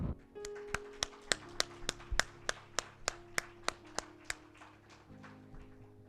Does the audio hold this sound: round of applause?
yes